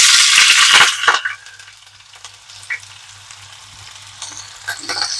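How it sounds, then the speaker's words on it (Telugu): Two chopped onions and a green chili drop into hot oil with a loud burst of sizzling that settles into a quieter, steady fry with small crackles and a few stirring clinks, close up and without speech. "ఆయిల్ వేడైంది. ఒక 2 ఉల్లిపాయలు, ఒక పచ్చిమిర్చి వేస్తున్నా అండి."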